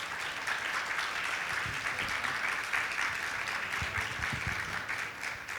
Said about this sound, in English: Can we give the panelists a round of applause,